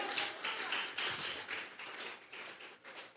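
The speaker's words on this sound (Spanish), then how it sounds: "Vamos a regalarle ofrenda de palmas al Dios de la gloria." A church congregation claps together as an offering of applause to God, a steady run of quick claps with loud bursts, fairly soft and a little distant, with no talking over it.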